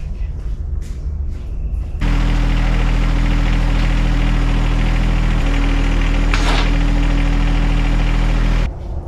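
A tractor engine runs at a steady, close, low idle, kicking in abruptly and holding an even rumble for several seconds before cutting off.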